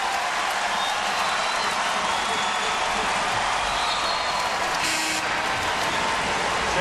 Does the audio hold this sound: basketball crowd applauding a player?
yes